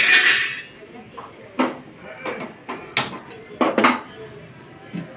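A pot is set down as a weight on top of a lidded biryani pot on a gas stove, producing a series of sharp metallic clanks and knocks at close range, with some speech in the background.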